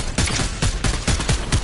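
Rapid bursts of gunfire from a weapon in the Fortnite battle royale game, several close, loud volleys cracking in quick succession across the clip with no talking.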